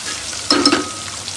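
Bay leaf, curry leaves, chillies and garlic dropped into hot oil, a sudden burst of crackling sizzle that settles quickly into a low spatter.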